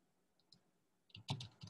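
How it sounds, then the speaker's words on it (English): Computer keyboard typing, a short burst of a few quick clicks at the end after near silence, close and fairly quiet. "I'm typing here."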